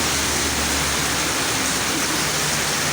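Heavy rain pours steadily in the town of Subulussalam, a dense, continuous broadband roar from close by that holds an even level for the whole stretch with no voices.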